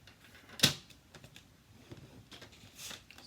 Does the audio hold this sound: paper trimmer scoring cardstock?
yes